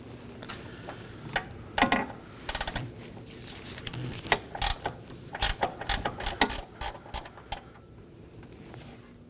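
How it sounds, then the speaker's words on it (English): Box end wrench loosening two 13mm bolts that hold a hood hinge to the body of a 2018-2024 Chevrolet Equinox, giving irregular close metallic clicks and ratchety ticks in short bursts with no talking. "Now I'm going to remove my two 13mm bolts holding the hood hinge to the vehicle body. I'll be using a box end wrench."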